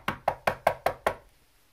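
Six firm knocks on a door at an even, quick rhythm, close and clear, followed by silence.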